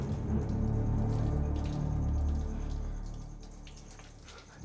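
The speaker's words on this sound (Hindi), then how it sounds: "पानी के बहने की आवाज है।" Water running somewhere inside a house, a faint steady rushing and trickling heard from a distance that eases off toward the end.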